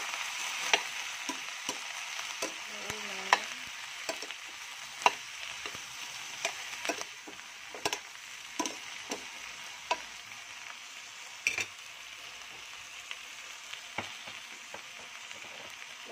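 Shrimp sizzle steadily as they fry in a pan for ginataang hipon, a constant bright crackling hiss with occasional sharper pops and stirring clicks throughout, close and with no talking.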